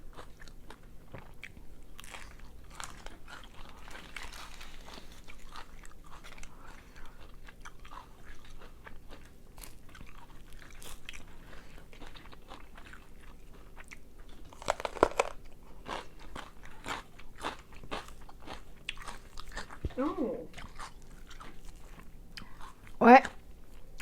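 Someone eats a spicy Thai pork salad (moo nam tok), with soft close biting and crunchy chewing running throughout and a few louder crunches near the end, under faint background game sounds.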